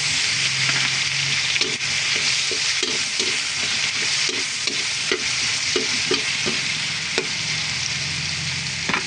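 Onion and tomato sauté in a hot pan for Filipino pakbet, a loud, constant sizzle broken by regular scraping strokes of a spoon stirring the mixture.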